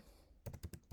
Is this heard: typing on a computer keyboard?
yes